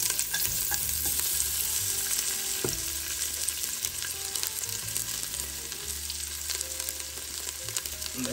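Ginger root sautés in hot oil for a seafood soup, making a loud, continuous sizzle and crackle, with stirring scrapes and occasional clatter of a utensil against the pan, no talking.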